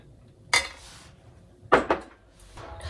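A few clinks and clatters of utensils against a plate as sake-lees clam chowder is served, spaced apart in a quiet kitchen.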